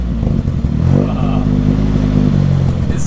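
Toyota 4AGE engine in a car revving up hard, a loud buzzy rising rev with a stepped harmonic tone that holds at high pitch, close by, with a brief voice mixed in.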